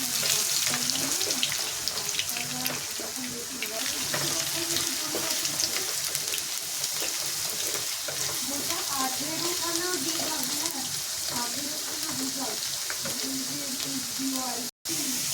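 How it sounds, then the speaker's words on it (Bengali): Potatoes frying in hot oil in a home kitchen, a steady sizzle running throughout alongside a voice speaking over it, with a brief cutout near the end. "আলুটা আমি ভেজে তুলে রাখবো"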